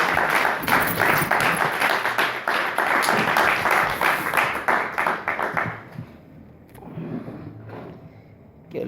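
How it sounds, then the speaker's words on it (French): A church congregation bursts into loud, sustained applause and cheering, dense and continuous for several seconds before tapering off into quieter scattered sounds. "Acclamons très fort pour le Seigneur."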